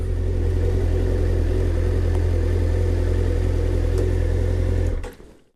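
A 2005 Suzuki GSX-R750 motorcycle engine running at a steady, loud idle close by, a constant throbbing drone that drops away abruptly near the end as it shuts off.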